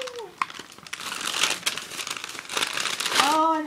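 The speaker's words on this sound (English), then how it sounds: "I don't want to rip the paper because it's so cute" Patterned gift wrapping paper crinkles and rustles continuously up close as a package is unwrapped, with brief higher voice sounds near the start and end.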